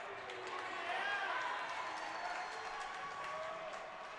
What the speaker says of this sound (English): Not sure who's clapping